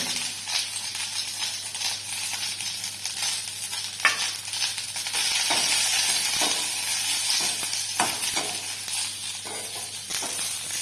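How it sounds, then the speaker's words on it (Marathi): Ajwain leaves, peppercorns and cumin sautéing in a pan for Karnataka-style tambuli make a continuous bright hiss and crackle, broken by repeated scraping stirs and clicks up close. "छान परतून घेतोय ओव्याची पानं दहा बारा मिरे आणि पाव चमचा जिरे असं सगळं छान परतून घेणार आहोत"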